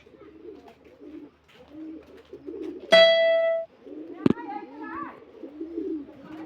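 Pigeons coo in low, repeated murmurs near a rabbit enclosure while a person talks over them, with a brief sharp whistle and a single click partway through.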